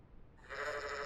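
A sheep bleats in the farming video game Fantasy Shop Simulator: a single drawn-out, nasal bleat starts about halfway through and holds steady to the end, fairly close and clear over a low background rumble.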